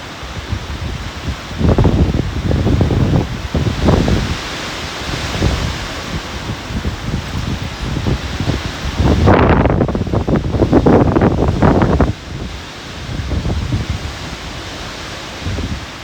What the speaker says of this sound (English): Wind gusts hitting now.